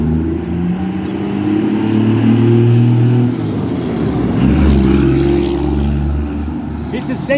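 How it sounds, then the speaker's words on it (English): Street traffic passing close by, a rumbling engine and tire roar that swells and fades as vehicles go past, loud and continuous throughout. "You might hear all this traffic around me because I'm out here in the street."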